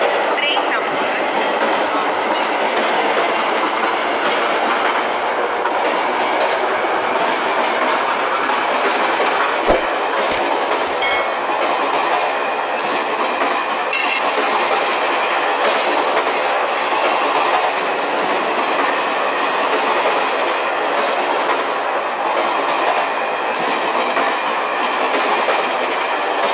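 A train runs on rails in the Indian Train Simulator game, a loud steady rolling roar with rhythmic clickety-clack of wheels over joints throughout, a couple of sharp metallic clicks midway, and a voice speaking at points.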